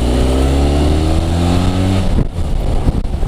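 A Benelli TRK 502 twin-cylinder 502cc eight-valve adventure motorcycle revs loudly up close, its exhaust holding a steady rising drone before easing off into rougher, uneven throttle blips.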